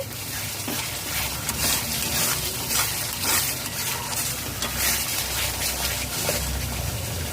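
Spice masala for an Afghani malai seekh gravy sautés in oil in a pan, producing a loud, dense, continuous sizzle and crackle with stirring scrapes mixed in.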